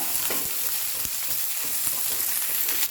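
Small onions fry in oil over a high flame, a loud continuous hiss of sizzling with occasional stirring clicks and no speech.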